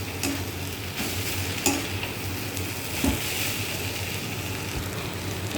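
Banana flower curry, thick and sticky, is stirred in a sizzling pan, a continuous frying hiss broken by a few sharp scrapes and clicks of the spoon against the metal.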